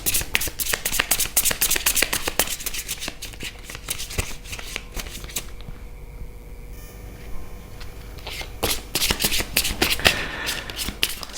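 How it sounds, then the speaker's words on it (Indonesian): A deck of tarot cards being shuffled by hand, crisp riffling flutters and taps repeating in quick bursts with a brief quieter pause in the middle, close and fairly faint with no talking. "kita shuffle dulu"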